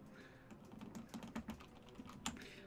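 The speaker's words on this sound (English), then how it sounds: "I'm holding down the A key so hard." Keys on a metal computer keyboard are pressed in a quiet, irregular run of clicky taps during a game session, close but faint, with no talking.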